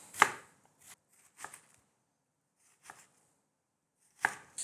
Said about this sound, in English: So I'm slicing sideways and then down